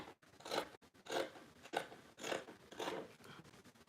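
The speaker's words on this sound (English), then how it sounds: "I'm going to trim my trouser to make it equal." Scissors cut through fabric to trim short pants, with about five crisp crunching snips in a slow, even rhythm, close and fairly quiet.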